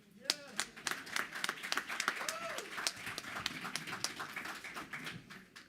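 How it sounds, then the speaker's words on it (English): Scattered clapping from the audience at a National Action Network convention, irregular claps spread through the room over steady crowd murmur, with people talking throughout. "And give Carrie Lee a round of applause"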